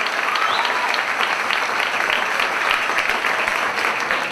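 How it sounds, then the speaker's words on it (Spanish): A concert audience gives loud, sustained applause, a thick, even roar of many hands clapping at once that holds steady throughout. "Vamos a dar un fuerte aplauso"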